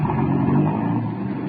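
A car drives past near an estate gate, a steady mid-range engine rumble that holds briefly and then fades slightly, with no voices.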